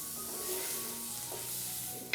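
Tomato and green chillies sautéing in a pan for a sardine dish, giving a soft, even sizzle that ends in a brief louder clatter.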